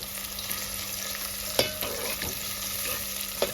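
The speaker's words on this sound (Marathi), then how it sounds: "तेल टाकून तर तेल गरम झाला की त्याच्यात या टाकूचा आपला कांदो टोमॅटो कढीपत्तो" Onion, tomato and curry leaves frying in hot oil, a soft continuous sizzle with a couple of sharp spatula knocks against the pan, quiet and without talk.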